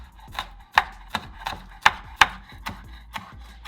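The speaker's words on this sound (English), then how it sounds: "Wow, my chopping skills are not very good right now. This knife needs to be replaced." A dull knife chops vegetables on a cutting board in a home kitchen with an uneven series of close, crisp knocks, each cut sharp and loud against the quiet room.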